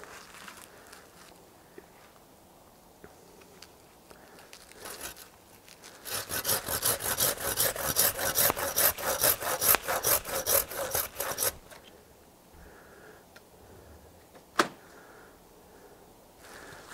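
A saw cutting through bonsai tree roots, a dense run of quick back-and-forth rasping strokes lasting several seconds, close and fairly loud, with quieter handling noises before and after.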